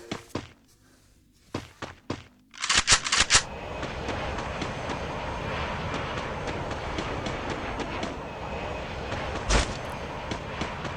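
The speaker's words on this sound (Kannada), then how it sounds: "Thomson best gun Thomson." Rapid bursts of Thompson submachine gun fire in the Free Fire battle game, a few short volleys early on followed by a steady noisy rumble and one more loud burst near the end, with no talking.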